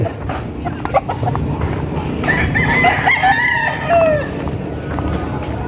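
Young stag gamecocks crow and cluck nearby, one clear crow rising above scattered clucks and yard noise.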